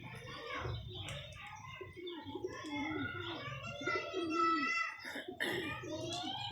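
Soft, low pigeon coos murmur under a voice talking close by, with some faint chirps mixed in.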